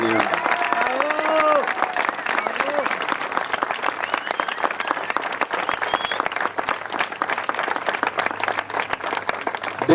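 An audience at a political left-wing gathering gives a big round of applause for visiting French comrades, dense clapping and some cheering, with a voice talking over it early on.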